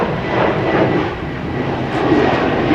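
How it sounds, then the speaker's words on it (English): A propeller or jet airplane passes overhead with a loud, steady engine roar that holds for a few seconds without talk, heard near a drainage water recycling facility construction site in Playa del Rey, Los Angeles. "Oh, there's another airplane."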